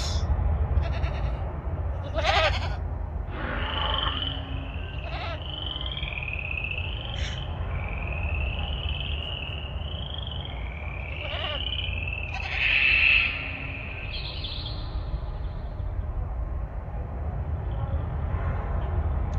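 Goats bleating in the Jurassic World Evolution video game: a series of wavering, nasal cries repeating over a steady low ambient drone, fairly close, with a few short clicks and knocks between calls.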